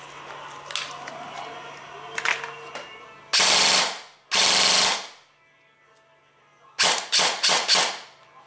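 An airsoft gun gearbox on a SIG is test-fired: two loud sustained bursts of rapid cycling, then a string of three or four shorter bursts, with quiet handling noises in between.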